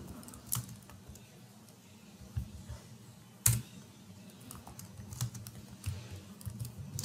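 Someone types on a computer keyboard. The key clicks are quiet and scattered, with a few sharper taps over a soft background, and there is no speech.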